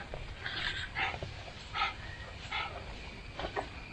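A dog lets out soft, intermittent whimpers and yips in a rhythmic series of short bursts, fairly close, with a steady background hiss.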